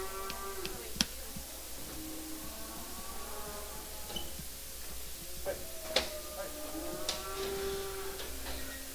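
Cattle moo repeatedly at a calf and stocker livestock auction, several drawn-out calls at moderate distance amid general barn noise, with a couple of sharp knocks.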